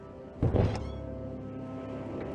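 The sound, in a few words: door sound in I SPY Fantasy video game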